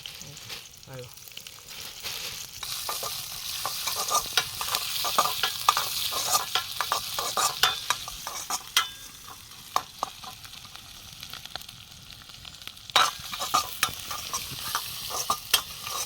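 Sliced onions sizzle loudly in hot oil with methi while a spatula scrapes and clatters around the pan in an irregular rhythm, for an egg chicken fry.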